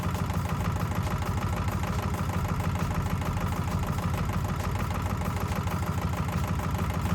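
A tractor engine idles and runs steadily while towing a water tank in the Farming Simulator 25 video game, a constant loud mechanical drone with no pauses.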